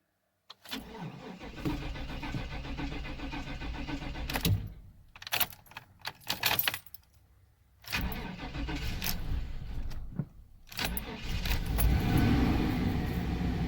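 An old truck with 210,000 miles on it, fitted with a Savage four-wheel drive, cranks and fires with a jangle of keys, then idles roughly and sputters, cutting out and restarting in uneven bursts, close up.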